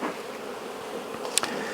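Honey bees buzz inside a crowded hive after a swarm, a dense continuous hum close up with a brief sharp tap or click near the end.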